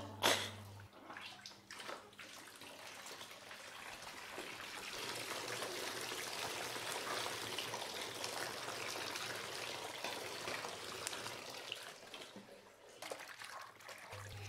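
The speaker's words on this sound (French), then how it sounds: "Alors la vache a très très très envie de faire pipi." A steady stream of liquid splashes down continuously, standing in for a cow urinating, loud and close throughout with no voices over it.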